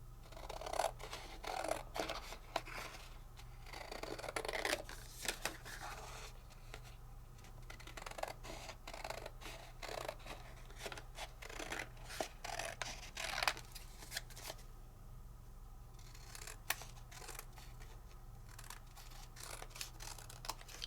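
Scissors snip freehand around a paper shape in a handmade card project, giving repeated crisp close cuts in uneven bursts over a quiet room with no talking.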